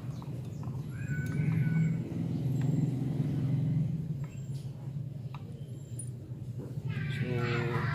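A cat meows a few times in the background, faint and intermittent, beneath a steady low hum and other soft noises.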